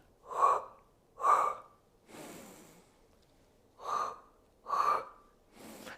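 Sharp, audible breaths during a Pilates mat exercise, five strong inhale-exhale bursts in a steady rhythm with a softer longer breath in between, close and clear with no talking.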